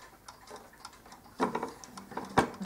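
A 1930s German dual chime Westminster Whittington mantle clock ticks faintly and a little unevenly at close range, struggling to keep running after being moved.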